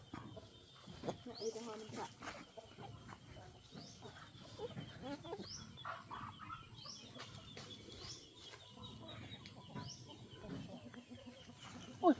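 Chickens at a rural home garden cluck and call across the yard, with occasional wing flaps amid steady outdoor ambience, while a person talks nearby.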